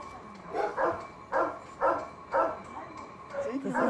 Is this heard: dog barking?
yes